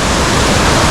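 Kuang Si waterfall in Laos roaring loud and close, a dense unbroken rush of falling water filling the whole moment with no voices.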